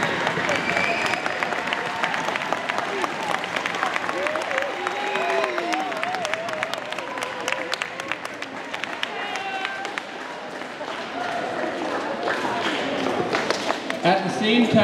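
Students at a school assembly applaud to thank their teachers, with steady crowd clapping and cheering and voices mixed in, loudest near the start and end.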